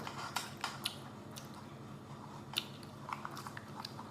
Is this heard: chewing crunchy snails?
yes